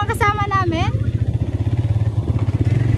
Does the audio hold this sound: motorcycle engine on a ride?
yes